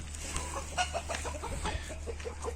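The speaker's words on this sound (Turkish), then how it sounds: "Bu da bizim diğer Hint horozu." An Indian game rooster clucks in a string of short, soft calls over a low background hum, fairly quiet.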